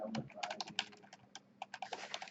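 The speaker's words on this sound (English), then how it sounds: "What am I typing?" Fingers type quickly on a computer keyboard during a JavaScript coding demonstration, making dense, uneven clusters of close keystrokes with short pauses and no speech.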